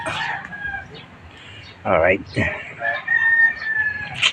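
A rooster crows nearby, a loud cock-a-doodle-doo rising over faint background chatter and a spoken word or two.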